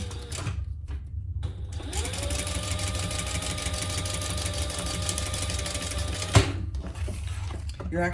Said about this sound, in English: I'm just going to sew both of those on.